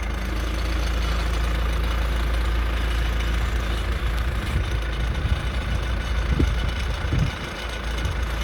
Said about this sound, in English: Fortunately, Ryan did acquire this backhoe.